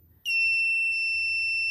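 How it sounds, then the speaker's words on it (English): An electronic buzzer in a voltage divider circuit on a lab bench starts abruptly and holds a loud, steady high-pitched tone with no voices. "we can begin to hear the buzzer ringing"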